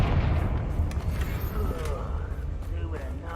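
Confringo blasting spell going off in Hogwarts Legacy, a dense rumbling burst of game combat noise that rolls on for several seconds with a shouted incantation at the start.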